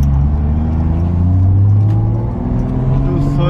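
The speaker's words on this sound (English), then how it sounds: "It feels so good to be driving the Supra after 5 weeks." Toyota Supra on the road, a loud continuous engine drone with rising harmonic tones as it pulls, steady cabin rumble without pauses.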